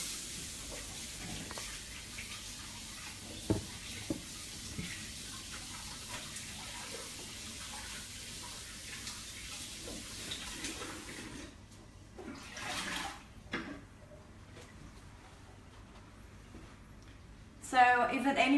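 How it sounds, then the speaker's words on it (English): Tap water runs steadily during handwashing in a home kitchen, a moderate hissing flow that stops partway through, followed by brief splashes and clatter while a person talks. "Just going to quickly wash my hands"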